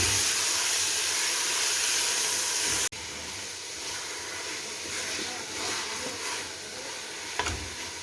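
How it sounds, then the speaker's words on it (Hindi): Minced meat (keema) fries in a pan with a loud, steady sizzle and hiss that drops abruptly to a softer but continuous crackle partway through, with no talking. "یہ دیکھیں قیمے کو ہم اچھے سے بھون رہے ہیں"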